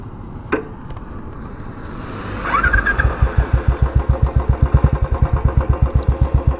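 A Royal Enfield Classic 350 motorcycle starts up, then its exhaust settles into a loud, close, steady thumping beat while riding. Quieter road noise comes first, and no one speaks.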